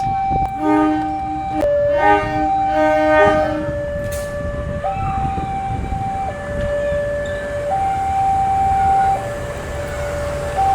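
A shunting locomotive at Probolinggo station moves new INKA KRL cars, its horn sounding a series of sustained tones at shifting pitches over steady rail rumble, loud and nearby.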